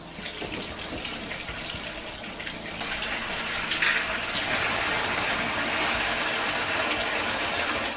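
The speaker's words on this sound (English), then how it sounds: "You're going to fill this up with hot water first" Hot water runs from a tap into a container for oven cleaning, a steady close rushing hiss that grows slightly fuller as it fills.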